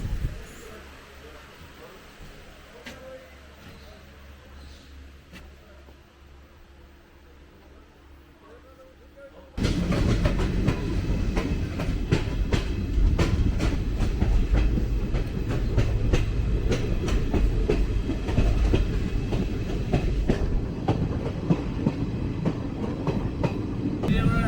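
Bhanjpur–Shalimar Express passenger train on the Rupsa–Baripada line, rolling on rails with steady clickety-clack and rumble; quieter cabin hum at first, then loud, close wheel and track noise as it speeds up, with faint voices.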